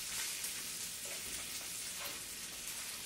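Bacon and everything bagels frying together in a lightly olive-oiled pan give a steady, close, even sizzle with faint shifting crackle, no voices.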